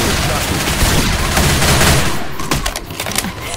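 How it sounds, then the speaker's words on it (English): Rapid gunfire bursts from the video game Left 4 Dead 2, loud and dense with overlapping shots and booms, thinning toward the end into separate sharp reports. "The sounds of a new shot."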